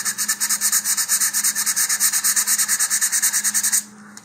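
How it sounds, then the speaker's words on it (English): A model rocket body tube is worked by hand with medium grit sandpaper around the fin slots, a close, steady rasping scrub in quick even back-and-forth strokes that stops abruptly near the end. "use some medium grit sandpaper."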